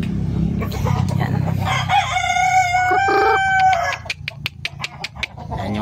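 Roosters crow in long drawn-out calls among clucking chickens at a small Filipino backyard poultry farm, loud and close, ending with a run of short sharp clucks and squawks.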